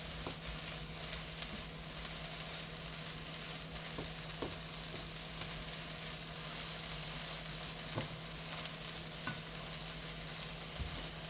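Chicken sizzles steadily in a hot pan for a stir fry, a constant low frying hiss with occasional faint stirring clicks, close and moderately quiet with no talking.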